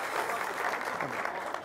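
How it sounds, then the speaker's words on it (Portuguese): An audience at a Brazilian project management congress gives a round of applause for a presenter: dense, even clapping from a large crowd, sustained throughout at moderate volume. "Uma salva de palmas para o Robson Camargo"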